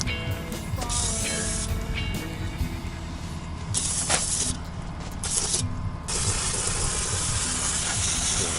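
Aerosol cleaner hisses in long, loud bursts over grease-covered front axle parts from a Dana 44 on a 1990 Dodge PowerRam W150, with short breaks between sprays and steady noise throughout.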